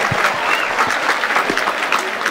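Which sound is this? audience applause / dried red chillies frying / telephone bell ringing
audience applause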